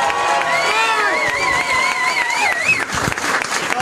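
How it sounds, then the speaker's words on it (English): Loud, dense audience applause with cheering and whoops for comedian Mark Normand at a stand-up comedy show, a crowd clapping steadily throughout with shouted cheers and whistle-like calls on top. "Start applauding right now because this is exciting."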